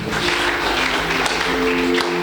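A church congregation claps together in sustained, dense applause during a lively service, loud and continuous throughout, with a steady hum of background sound behind the clapping.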